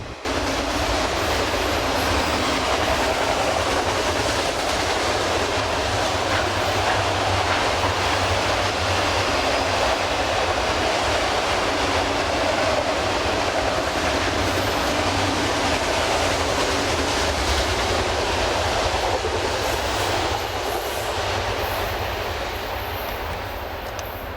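A CSX freight train rumbles past close by for the whole stretch in Jacksonville, with a steady, heavy roar of wheels and cars and faint clacking over the rails.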